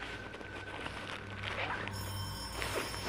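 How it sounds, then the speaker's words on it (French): A red telephone ringing, a steady electronic bell tone over a noisy background, moderately faint and continuous. "C'est le téléphone rouge? Bah on va répondre."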